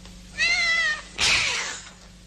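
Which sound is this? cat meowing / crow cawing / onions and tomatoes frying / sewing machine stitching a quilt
cat meowing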